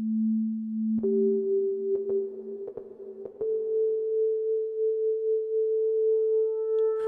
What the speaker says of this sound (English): In the beginning, this also is just a sine wave.